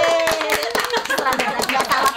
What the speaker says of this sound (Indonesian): Tepuk tangan untuk Mas Jali.